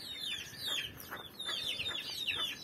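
A mother hen in a coop calls her chicks with soft, repeated clucks, while the chicks' high, thin peeping chirps overlap throughout at close range.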